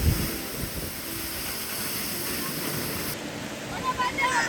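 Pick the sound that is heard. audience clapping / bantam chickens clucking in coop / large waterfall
large waterfall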